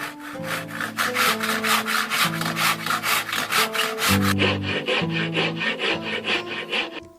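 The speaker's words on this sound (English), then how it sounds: "I use a handsaw to remove the big blocks of wood" A handsaw cuts through a block of wood for a Finnish puukko knife handle, its loud, rhythmic rasping strokes steady and close, with the pitch of the strokes shifting partway through.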